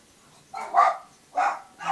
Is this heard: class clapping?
no